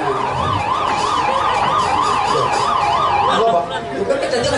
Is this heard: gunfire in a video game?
no